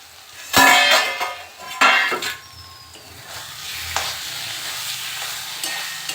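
A spatula stirs ol (elephant foot yam) stalk curry in a pan, producing a few loud metallic scrapes and clanks over a soft, continuous sizzle that carries on quietly afterward.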